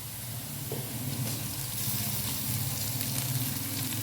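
Garlic ginger paste hits light golden onions frying in a pan, giving a steady, close sizzling hiss that holds evenly throughout with no talking.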